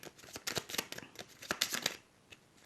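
A deck of tarot cards shuffled and cut by hand: quick, soft riffling and flicking of cards in a short flurry, close and faint, tapering off into quiet.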